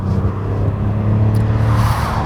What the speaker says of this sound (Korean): 가속 페달을 밟았을 때 일단 디젤 엔진이긴 하지만 상당히 어마어마한 힘을 바탕으로 밀고 나가는 것을 볼 수 있는데요